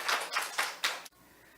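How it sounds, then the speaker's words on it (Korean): A church congregation gives brief applause, with a few bursts of clapping in quick succession before it cuts off into the quiet of the room. "우리 하나님께 박수 올립니다."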